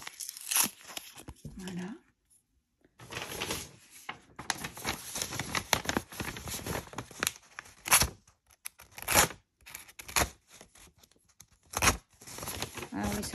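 A Craftelier craft knife slicing through paper makes close, scratchy tearing and crinkling sounds in irregular bursts with short gaps, while someone talks briefly in between.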